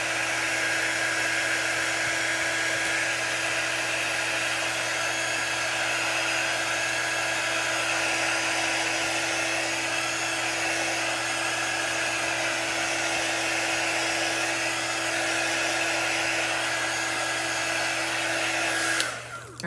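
A hair dryer blows steadily on a chalk-painted door tag, a loud continuous whir with a bright motor whine that runs unbroken for about twenty seconds before cutting off at the end.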